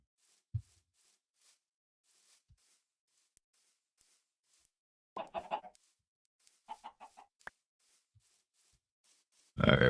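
Chickens clucking in a Minecraft modpack game, sparse short clucks and a burst of several calls midway, with a louder noise at the very end and quiet gaps between.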